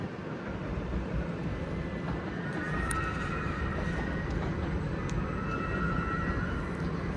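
A Class 701 electric train, unit 701-026, pulls into Clapham Junction with a steady, rumbling roar of wheels and traction noise that fills the platform, holding constant and fairly loud throughout with no voices.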